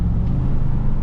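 A car's engine rumbles steadily and low during a test drive, a continuous close drone with road noise and no voices.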